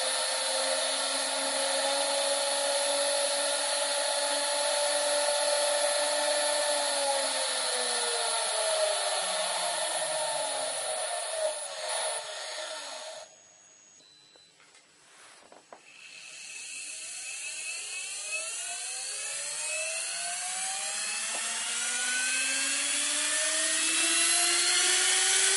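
A high-pitched induction motor whine spins steadily at about 20,000 RPM, drops away briefly as it slows, then winds back up with rising tones to full speed.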